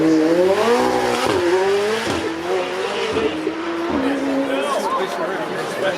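The MSO 001 bespoke convertible, a 765-horsepower 4-litre twin-turbo V8, drives past at a supercar weekend run, its loud engine note rising and dropping through several gear shifts up close, with crowd chatter underneath.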